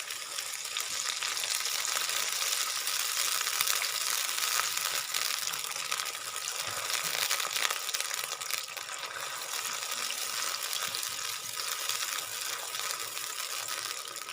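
Water poured into a pan of golden-brown frying onions for a mixed vegetable dish, producing a loud, steady hiss and sizzle that continues evenly throughout without talking.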